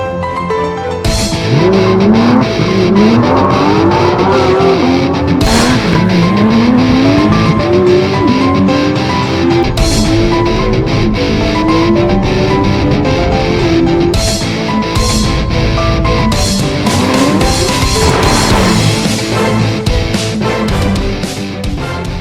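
A Porsche 991.2 GT3 sports car is driven hard, its loud engine climbing through the revs again and again with gear changes between the pulls, heard close and steady all the way through.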